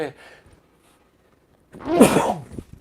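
A single sharp sneeze bursts out close by after a brief moment of near silence and faint voice.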